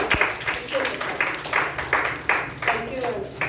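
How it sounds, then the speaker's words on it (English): Applause for evaluators at a youth leadership program gathering, several people clapping in a room in a loose, uneven rhythm, moderately close, with some voices mixed in. "let's give a round of applause to all these evaluators"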